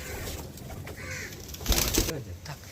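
Madras pigeons at a home loft give soft, low cooing calls, faint and intermittent, with a brief louder flutter partway through.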